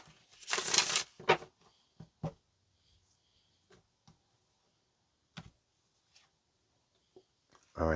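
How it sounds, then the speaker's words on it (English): Tarot cards being shuffled, quick riffling bursts near the start followed by scattered soft ticks and taps of cards being handled, with a brief voice at the very end. "let's do one more shuffle"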